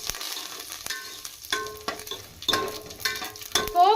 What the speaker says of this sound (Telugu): ఇందులోనే కొంచెం కరివేపాకు, లైట్గా ఇంగువ వేసుకోండి